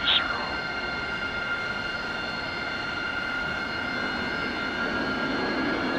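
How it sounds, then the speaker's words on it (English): A fixed-wing aircraft's engines roar steadily during takeoff from the runway at Sochi airport, a sustained broadband rumble with a faint whining tone, heard from a distance without pauses. "You clear to take off runway 20"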